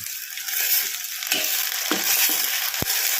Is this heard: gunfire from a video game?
no